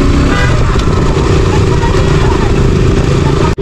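A motorcycle rides along a road toward Srisailam, its engine droning loud and close with steady wind rush, a continuous ride that cuts off abruptly at the end.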